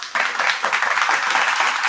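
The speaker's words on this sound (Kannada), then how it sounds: "ಜೋರಾಗಿ ಚಪ್ಪಾಳೆ ತಟ್ಟಿ ಒಂದ್ಸರಿ" Audience clapping at an Indian event honouring achievers, a loud, dense burst of many hands that starts abruptly and holds steady for a couple of seconds, with no talk over it.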